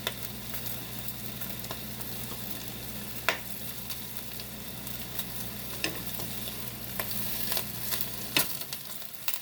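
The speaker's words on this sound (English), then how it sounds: "I'm going to flip over the sausages with these tongs here" Sausages sizzling in oil in a frying pan, a steady crackling hiss with scattered clicks and taps as tongs turn them over, no talking.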